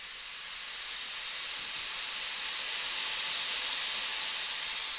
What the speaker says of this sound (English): So I'm about to open the valve and see what we can.